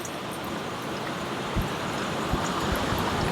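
Chicken schnitzel fries in hot oil with a dense, steady sizzle and crackle, heard close with a few soft thumps and no talking.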